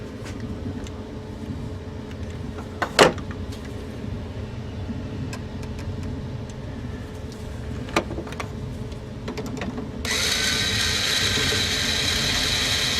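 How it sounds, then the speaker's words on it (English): A guitar string winder turning the tuning peg of an acoustic guitar gives a rapid ratcheting whir, close and steady, with a couple of sharp clicks and a brighter hiss in the last few seconds. "And we get our winder."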